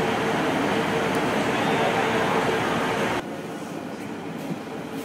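Inside a stationary train waiting to depart, a steady broadband rumble and hiss of onboard machinery fills the space, then abruptly drops to a quieter hum partway through; no talking.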